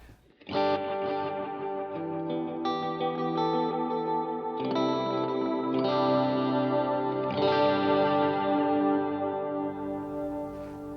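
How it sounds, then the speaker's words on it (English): Electric guitar played through a Line 6 HX Stomp on a low plate reverb setting, with sustained chords ringing out alone and a lush, shimmering plate reverb tail washing behind each change. "So this is with the low plate reverb setting."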